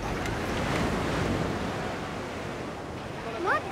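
Surf at Andaï beach rolls in as a steady, broad roar of breaking waves, close and fairly loud, with some wind buffeting the microphone and a brief higher sound near the end.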